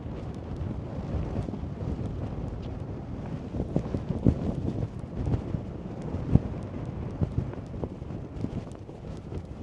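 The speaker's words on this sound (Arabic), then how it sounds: "من تما جاي الريح" Strong wind buffeting a microphone on a roadside during a long walk in Morocco toward Mecca, a constant rough rumble with scattered thumps and gusty bursts, no voices.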